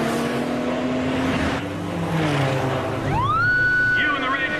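A speeding red car roars past during a chase, its engine note rising and bending in pitch as it passes close by, with voices speaking over the engine noise.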